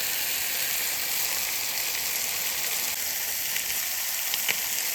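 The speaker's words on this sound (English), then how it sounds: "Just let the peppers get a little bit of a sear on them." Bell peppers sear in a hot pan with a steady, even sizzle and crackle that holds at close range with no voices.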